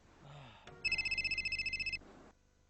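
A telephone bell rings in one rapid trilling burst of about a second, clear and fairly close, inside a quiet room, with faint background sound before and after.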